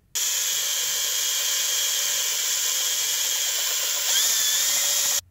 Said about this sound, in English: We're gonna drill a hole into it so this plug will fit through the hole.